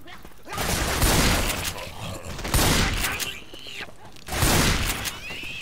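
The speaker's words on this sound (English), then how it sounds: "Shoot that zombie in the back!" Repeated loud shotgun blasts from a Left 4 Dead 2 video game gunfight, fired at zombies. Three heavy bursts about a second or so apart, with game noise in between.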